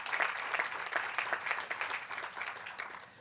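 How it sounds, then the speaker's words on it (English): An audience applauds at an outdoor groundbreaking ceremony for an airport metro connector project, a dense patter of many hands clapping that holds steady and then begins to taper off. "That too deserves a round of applause."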